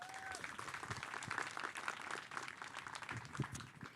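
An event crowd at a Latino real estate professionals' gathering gives a round of applause, a soft, steady patter of many hands clapping with a few brief voices mixed in.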